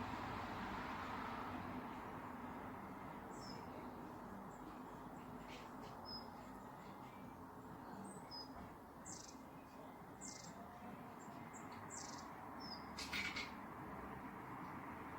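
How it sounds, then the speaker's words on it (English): Faint, scattered bird chirps come from a distance over a low, steady outdoor hum, with a few brief tweets clustered together. "Birds are tweeting in the background."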